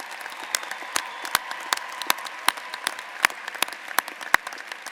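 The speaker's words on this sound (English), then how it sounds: "Let's give all our graduates a great round of applause." A university commencement audience at University of Michigan-Dearborn gives the graduates a round of applause, with sparse, sharp individual claps standing out over a softer wash of clapping in a large hall.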